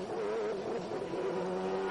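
A Formula One race car, Senna's, its engine note wavering and stumbling as the gearbox fumbles, heard at a distance as a steady, thin drone with no voices.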